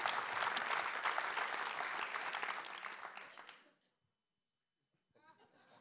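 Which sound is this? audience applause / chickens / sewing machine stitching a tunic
audience applause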